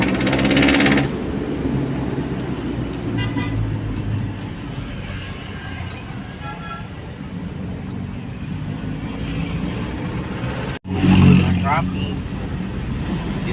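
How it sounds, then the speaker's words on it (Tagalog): Heavy, congested road traffic of cars and motorcycles packed in the opposite lane forms a steady, loud engine rumble throughout, with a brief dip near the end and voices in the background. "Buhol-buhol na traffic sa kabila."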